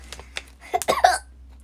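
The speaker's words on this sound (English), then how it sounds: "let me see if my hiccups have cured" A person hiccuping up close, several short, sharp bursts bunched together in quick succession after faint earlier catches, with no talking.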